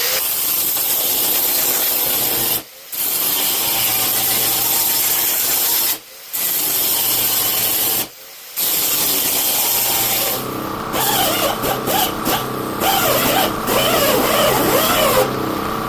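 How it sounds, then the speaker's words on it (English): Angle grinder working back a weld seam on a car boot floor panel of a VH Charger, steady loud abrasive grinding in long runs broken by three brief pauses, then a rougher, choppier stretch near the end. "So we'll grind that back and then we'll refit it and see how we think."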